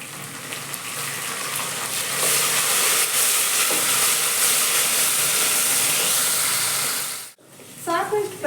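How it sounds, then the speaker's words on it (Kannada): Fenugreek leaves hit hot oil while frying for chicken biryani, setting off a loud, steady, close sizzle and hiss that cuts off abruptly near the end, followed by a brief clatter. "ಇವಾಗ ಮೆಂತ್ಯ ಸೊಪ್ಪು ಹಾಕೋತಾ ಇದ್ದೀನಿ."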